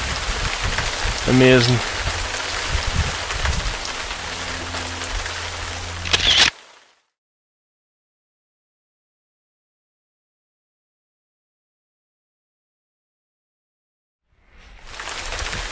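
Rain falling across open hill country in the Cheviot Hills, a steady hiss of drops for about six seconds with a brief spoken exclamation over it, then cut to silence before the rain noise returns at the end.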